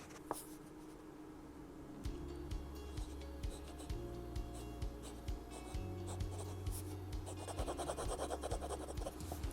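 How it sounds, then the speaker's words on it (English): Fountain pen nib scratching across the paper of a Gucci notebook, a soft, close, faint scritchy rasp in short repeated strokes that grows busier toward the end, with no talk. "You actually can hear the scritchiness, as I like to say, because it's not scratchy"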